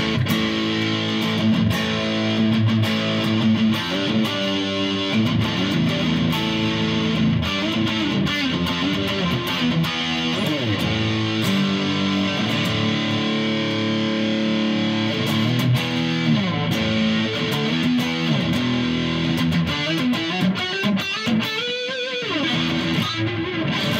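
Electric guitar played through a Donner Morpher distortion pedal in tight mode, tone near eleven o'clock: a continuous, dense, heavily saturated riff with chugging chords and sustained notes, loud and steady, alone without any voice.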